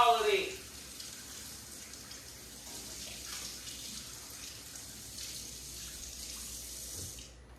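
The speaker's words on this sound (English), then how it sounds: "And wash my hands." Running tap water splashing over hands in a home kitchen, a steady soft hiss after a brief louder gush at the start.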